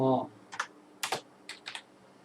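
A computer keyboard is typed on during a drawing session in Google SketchUp, giving four or five short, crisp key clicks up close after a brief voice.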